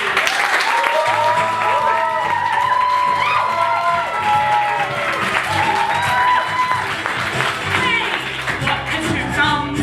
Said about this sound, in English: do at least one clap for the delightful, sun-smart and well-hydrated Nicola Macri